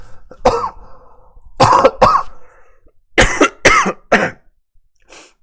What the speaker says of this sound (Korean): 이게 기침이 나와서